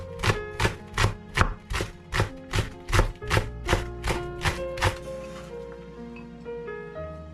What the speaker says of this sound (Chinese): 从园子里拔了2颗大葱，切成葱花，用来炒肉馅儿。